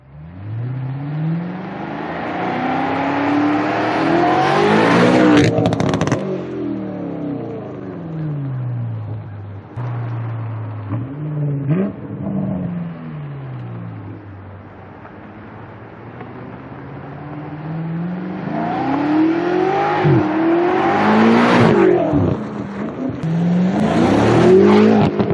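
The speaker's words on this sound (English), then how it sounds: "see if we can get some good recordings of the exhaust note" A BMW M8 coupe fitted with a GTHaus exhaust revs and pulls away, its deep exhaust note climbing through several loud sweeping rises, easing off in the middle, then building hard again.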